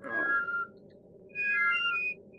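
A character whistles in Abe's Oddysee: a short whistled note, a pause, then a longer two-tone whistle phrase over a low hum.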